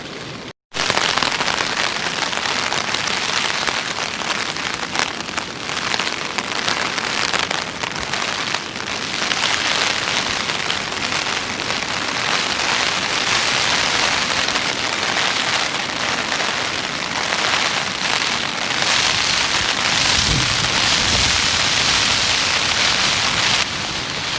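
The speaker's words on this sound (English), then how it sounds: "So that's the rain coming down now." Light rain pattering steadily and evenly on camping gear beside a river, a constant close hiss with no voices.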